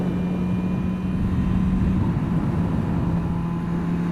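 A fully stock 200+ horsepower MV Agusta Brutale 1000 RR being ridden at Assen produces a steady, smooth engine drone with a constant low hum and a rushing wind layer, with no talk.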